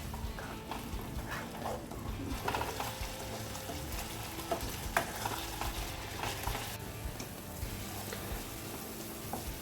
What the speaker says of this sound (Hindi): 4 मिनट हम इसको पका लेते हैं।